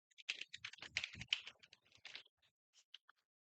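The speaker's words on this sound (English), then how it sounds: "I would type the first function." Fingers type a function into Desmos on a computer keyboard: a fast, close run of light keystrokes, then a few isolated taps trailing off into silence.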